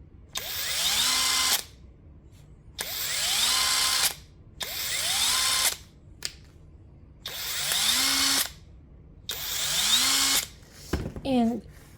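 A cordless mid torque impact wrench is triggered in five loud bursts of about a second each, run in forward and reverse. Each burst has a rising motor whine and rapid hammering, with short pauses between them and a brief stutter at the end.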